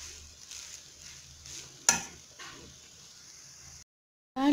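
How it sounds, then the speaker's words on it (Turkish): Bulgur soup ingredients for lepe are stirred and sautéed together in a pan, giving a soft continuous sizzle with scraping stirs and one sharp utensil knock partway through, then a brief silence before the sound returns. "bu şekilde karıştırarak tüm malzemelerle birlikte kavurma işlemine devam ediyoruz"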